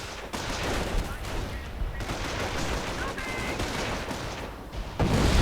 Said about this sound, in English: Lots of artillery firing away.